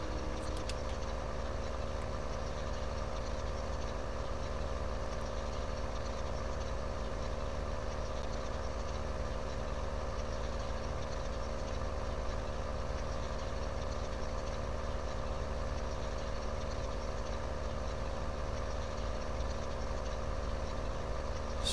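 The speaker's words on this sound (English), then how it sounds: "with the sound effects on it, and I thought it would sound good on this tractor." A tractor in a farming video game idles with a modded engine sound, a steady low, throaty rumble that holds unchanged throughout with no other sounds.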